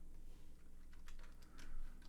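Quiet clicking of fingers typing on a computer keyboard at a desk, a few soft keystrokes close by over steady low room hum.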